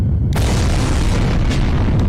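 A huge explosion booms overhead in the visual novel game Code: Realize ~Bouquet of Rainbows~, a sudden loud blast that rolls on as a dense, sustained roar with debris-like crackles.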